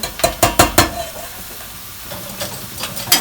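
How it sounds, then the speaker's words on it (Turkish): Mushrooms tipped into a pot of milky mushroom soup on the stove, with a quick run of five sharp scraping stirs up front, a quieter gap, then softer stirring and clinks toward the end, close and fairly loud. "Mantarlarımızı da koyalım."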